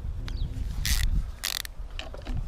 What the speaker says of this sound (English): Just gonna get my ratchet and just nick them up.